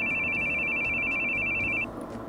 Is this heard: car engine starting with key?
no